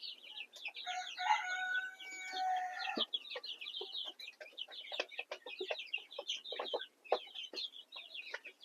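Large farm chickens cluck in a close, busy chorus, with a rooster crowing during the first few seconds, followed by steady irregular clucking and squawks.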